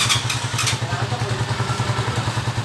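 An overhauled Honda TMX 155 motorcycle engine runs close by with a steady, rhythmic low putter and faint clatter on top, with no talking.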